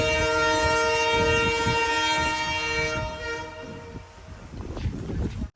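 A passenger train on the Mysuru to Chamarajanagar line sounds a long, loud horn for about three seconds, then the wagons rumble and clatter close by as it moves.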